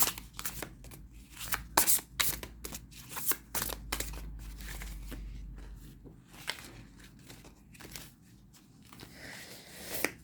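Tarot cards being shuffled by hand, with a series of crisp riffling and slapping bursts close up, irregular in rhythm and quiet between strokes, with no talking over them.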